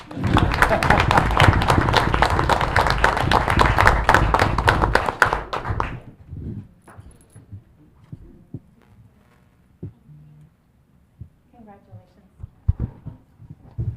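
Applause from an audience at a city hall meeting during a proclamation, a dense burst of clapping for about six seconds that then drops off into a quiet room with scattered taps and light voices.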